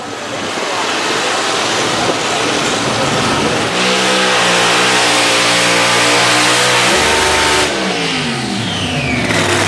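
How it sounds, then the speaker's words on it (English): A pulling tractor at a 2021 Illinois county fair tractor pull roars under hard load, its engine revving loud and close, rising and shifting pitch through the run before the note drops and climbs again. "on the Giddy Up tractor."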